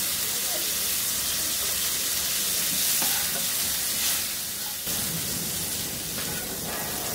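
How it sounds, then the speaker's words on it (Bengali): Cauliflower fries in butter and garlic over medium heat in a pan, giving a continuous loud sizzle and hiss with faint stirring scrapes throughout. "মিনিট 2 ভেজে নিলাম মিডিয়াম হিটে।"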